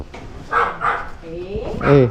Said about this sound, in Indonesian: Itu Tobi yang menggonggong kok